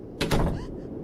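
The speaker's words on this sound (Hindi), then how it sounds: "मिस्टर रेडफेस ने दरवाजा बंद कर दिया।" A door shuts in a horror video game: one heavy, booming thud with a short rumbling tail, fairly loud and heard alone.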